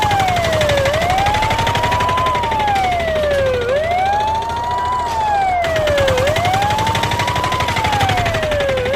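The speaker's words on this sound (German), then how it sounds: "Da kommt der Rettungswagen." An ambulance siren wails in a slow rising-and-falling sweep, repeating about three times, loud and close over low traffic rumble, with no talking.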